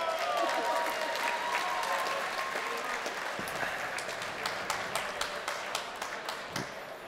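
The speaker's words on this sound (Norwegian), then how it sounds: "de fortjener applaus, hallo!" Audience applause at a Norwegian folk music festival group finale in Vågå, a steady wash of clapping that gradually thins into separate, distinct claps, with faint voices mixed in.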